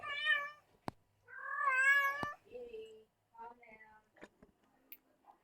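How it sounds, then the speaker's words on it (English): A cat in heat yowls in two long, close meows, followed by softer, shorter cries and a few faint knocks. "Damn cat in heat."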